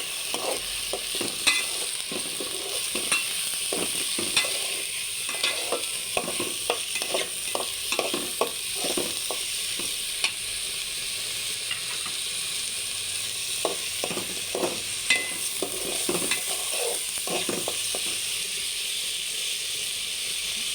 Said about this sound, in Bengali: চালটাকে ভালো করে ভেজে নিবে